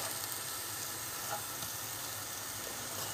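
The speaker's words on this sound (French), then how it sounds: "On met à feu moyen pour refaire venir des oignons," Onions frying in sunflower oil over medium heat for lasagne: a steady, even sizzling hiss that holds without a break, moderately quiet and close, no voices.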